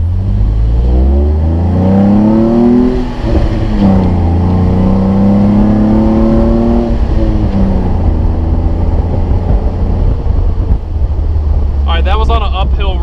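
A Jeep JK Wrangler on 40-inch tires accelerates uphill, its engine climbing through rising revs with gear changes, heard loud from inside the cabin; a brief chirping sound appears near the end.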